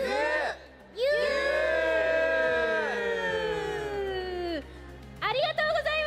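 A large crowd at a live anniversary fan festival event cheering and shouting in long, loud, sustained waves, with a brief lull before a fresh burst of screams.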